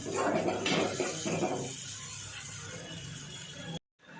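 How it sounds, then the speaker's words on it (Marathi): A gas stove knob clicks and ratchets as it is turned off in a home kitchen, close and fairly loud over low kitchen clatter and hum, then the sound cuts to silence. "आता मी गॅस बंद करून घेते"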